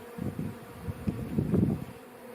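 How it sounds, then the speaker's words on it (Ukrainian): Honey bees buzz in a low, fluctuating drone at a hive during the May honey flow, several insects humming close by with swelling and fading intensity. "бджоли багато."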